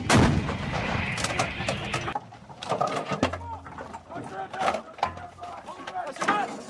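Gunfire on a military range during the Cobra Gold 2020 exercise, several sharp shots cracking in irregular succession at close range, with birds calling in the background and shouted voices between the bursts.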